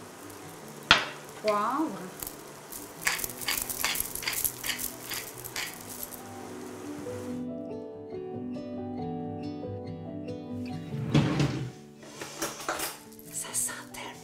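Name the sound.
mushrooms simmering in a pan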